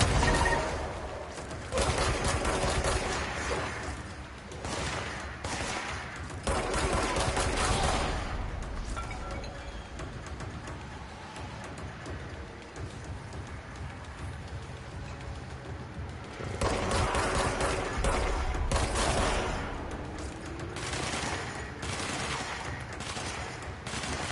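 Sustained gunfire in the video game Control, with dense bursts of shots that swell and ease across the stretch, loud and continuous, with heavier volleys near the start and again toward the end.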